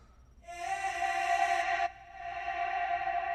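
A sustained synth tone with no sidechain compression applied swells in, drenched in reverb and echo, with a bright layer cutting off abruptly while the washy tail lingers.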